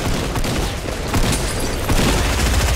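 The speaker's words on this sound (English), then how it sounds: "I got killed by that SMG anyway" SMG gunfire in the video game Fortnite, a busy, loud spray of rapid shots with a few heavier thumps mixed in, continuous and close.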